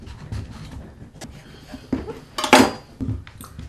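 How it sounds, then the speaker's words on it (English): A knife cuts down through the middle of a butternut squash, producing a few knocks and one sharp crunching crack against the cutting board, close and fairly loud amid light kitchen clatter. "So just slice down the middle here."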